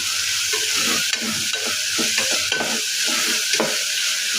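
Egg biryani masala frying and being stirred in a pan, with a steady sizzle under repeated scraping and stirring strokes, close and fairly loud throughout, with no talking.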